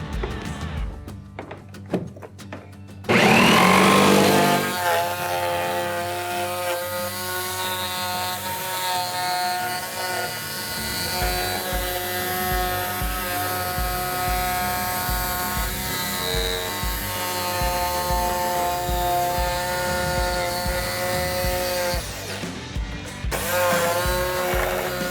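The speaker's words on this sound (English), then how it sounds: "Now I'm ready to begin my cut with the jigsaw." A jigsaw cuts a hatch opening into a Hobie Mirage Passport 12.0 kayak, starting after a few quiet taps and then buzzing loudly and steadily for about twenty seconds before stopping briefly near the end.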